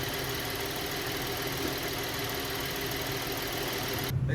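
A 2016 Buick Enclave engine with a 6T70 transmission runs at a steady idle, a continuous close mid-range hum with faint vibration and no voices, cutting off just before the end.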